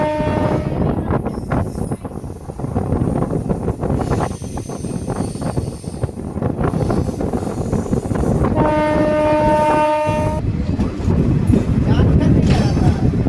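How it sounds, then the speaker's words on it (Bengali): A Santragachi-Digha fast passenger train standing at Deshapran station, its loud, long horn sounding near the end over a steady rumble of engine and track noise, with voices talking throughout. "এই আমার পেছনে আমার ট্রেন দাঁড়িয়ে রয়েছে"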